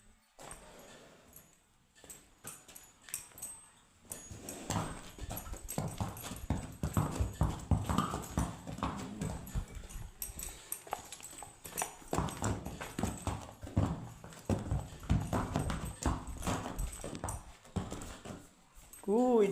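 A large, freshly clipped donkey moving about on hard ground, giving irregular hoof clip-clops and shuffling up close, with some dog noise and a person talking in places.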